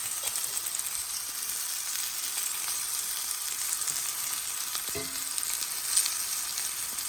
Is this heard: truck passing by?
no